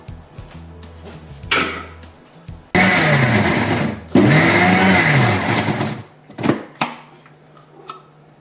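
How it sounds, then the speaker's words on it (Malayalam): An electric mixer grinder crushes onions in bursts, loud and coarse, with short pauses between runs and a brief start-up whir before the main grinding; onions are being crushed for a Thalassery-style chicken biryani. "ഇതുപോലെ തന്നെ നമുക്ക് സവോളയും ഒന്ന് ചതച്ചെടുക്കാം."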